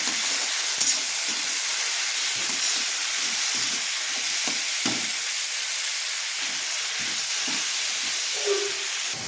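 Beans sizzle and hiss steadily in a hot pan with salt and turmeric, with soft scraping strokes of stirring breaking through the constant frying noise; no one speaks.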